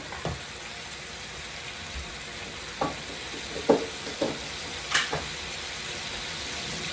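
Butter and ketchup sizzle in a pan for a Jamaican-style brown stew porgy fish, giving a steady close frying hiss broken by a few sharp spatters and utensil stirs, with no talking.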